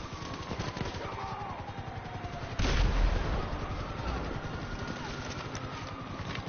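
A single loud, heavy sniper rifle shot cracks out in GTA 5 Online, standing sharply above a steady bed of game noise and rumble.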